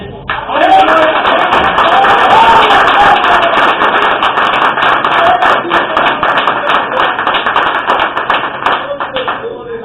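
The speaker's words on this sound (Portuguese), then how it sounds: "Obrigado pelas palmas" A church congregation applauding together, dense sustained clapping that starts abruptly and carries on for several seconds before thinning slightly, with some voices mixed in.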